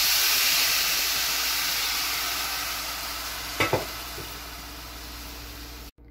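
Jaggery is stirred into lightly roasted coconut in a pan for finger millet dumplings, making a steady sizzling hiss that slowly fades, with a couple of brief spoon scrapes and knocks partway through.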